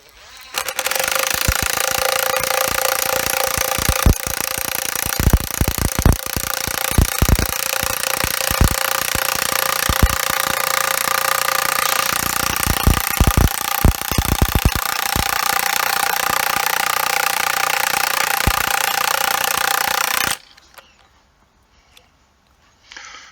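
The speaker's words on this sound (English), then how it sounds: "by just using a impact wrench, which is battery operated, we can sample one tree ring core in 3 minutes" A battery-operated impact wrench drives an increment borer into a tree trunk for tree-ring sampling, a loud continuous rattling hammer with sharp bursts, running steadily for about twenty seconds before cutting off to near silence.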